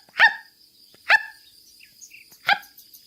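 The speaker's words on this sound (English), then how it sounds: "Maned wolves don't howl, they do loud barks and roar barks." A maned wolf gives three loud, sharp barks spaced about a second apart, with quiet gaps between them and no talking.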